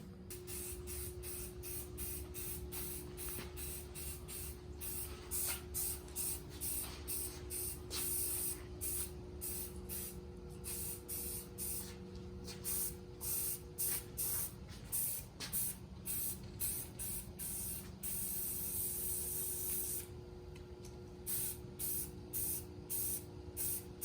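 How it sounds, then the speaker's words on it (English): A spray gun lays a coat of primer on a Jeep part, a steady close hiss broken into many short rhythmic bursts as the trigger pulses, with a constant mechanical hum underneath and no talking. "We'll shoot a coat of primer on it first"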